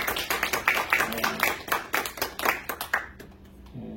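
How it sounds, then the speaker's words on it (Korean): A church congregation claps together in a steady run of hand claps for about three seconds to welcome a temporary pianist, then the applause stops abruptly and the room falls quiet. "박수 한번 하겠습니다"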